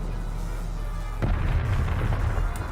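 A single deep boom of cannon fire in the tactical war game Valkyria Chronicles, striking over a low engine hum and rumbling on for a moment afterward.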